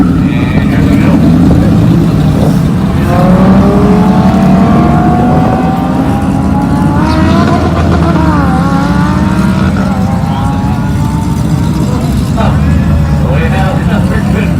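Turbocharged Honda Accord with a J32 V6 drag racing a Lamborghini at a Street Car Takeover event; loud, continuous engine roar with rising and falling revs running throughout.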